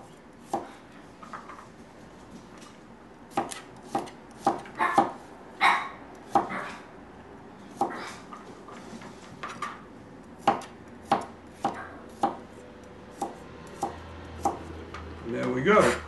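A knife slicing garlic cloves into thin slices on a cutting board, a series of sharp, irregular chopping taps, close by, with a dog barking now and then in the background.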